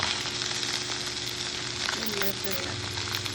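Oily fish frying in hot oil in an Assamese home kitchen: a loud, continuous sizzle and crackle right up close, with a faint bit of stirring.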